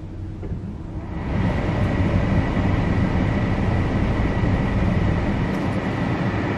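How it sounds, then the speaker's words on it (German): A car engine starts and settles into a steady idle rumble, close and continuous after a brief rise, with no voices over it. "Muss ich echt einen Motor anmachen zum Navi programmieren."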